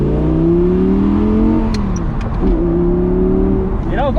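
An Audi R8 V10 Spyder with a 585-horsepower engine revs loudly and close by, its pitch rising and falling in sweeping surges, with a voice speaking faintly beneath the engine.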